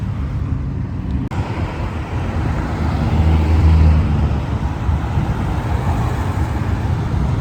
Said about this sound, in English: Oh, that's one of my dream cars right there, that Julia.